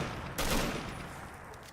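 Modded rifle gunfire in Fallout 3, a loud burst of shots around the half-second mark trailing into a noisy ringing tail, with no speech.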